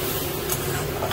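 Hot water poured into frying onion-tomato masala for a pangas fish curry with brinjal and potato, giving a brief, loud, steady hiss close by.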